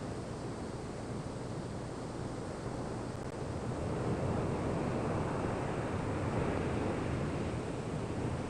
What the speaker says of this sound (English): If you watch the waves breaking on a sandy beach, like this one, you can see a wave break and the water run or swash up the beach.